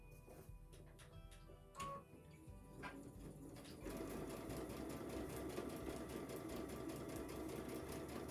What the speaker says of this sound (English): So we're going to go sew those two together.